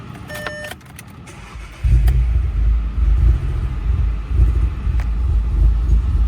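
A Volkswagen Polo's engine cranks briefly, then catches and settles into a loud, close, rough idle with a low rumbling drone.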